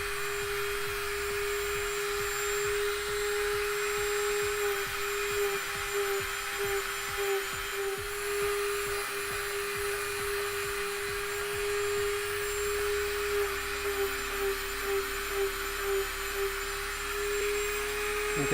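Whining high-speed rotary tool smoothing barge-cemented foam joints on a Sabine Wren helmet, a steady loud buzzing drone with grinding texture, continuous throughout.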